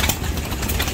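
An antique gas engine at the Midwest Old Threshers show runs steadily, belted to a gear reduction fan, making a close, loud, even chugging drone.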